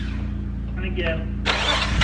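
A car engine cranks and briefly catches after its timing was adjusted, a low chugging turnover that builds to a rough burst near the end, with people talking over it.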